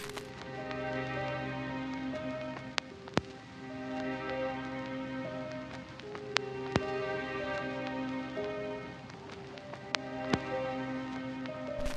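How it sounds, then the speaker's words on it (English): Gritty, old vinyl-style sample built from MIDI in Ableton: a soft, sustained chordal loop under steady hiss and crackle, with occasional sharp pops, quiet and even throughout, no talking. "hopefully you agree that it sounds like a vinyl sample or something along those lines, something old"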